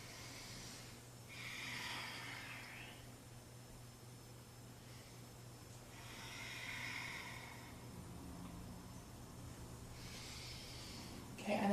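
Slow, soft breaths during yoga in downward dog come in three long, airy swells spaced a few seconds apart over a faint, steady hum, quiet and close.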